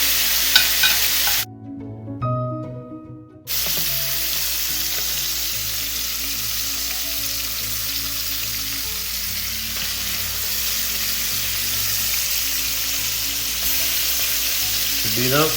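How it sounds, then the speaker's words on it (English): Swordfish steaks sear in a hot pan with a dense, steady sizzle; a brief cut near the start brings a short spell of quieter, tonal sound before the loud frying resumes and carries on evenly. "And then just a minute on each side. Give that a good sear."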